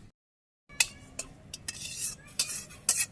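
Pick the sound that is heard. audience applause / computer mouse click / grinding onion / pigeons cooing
grinding onion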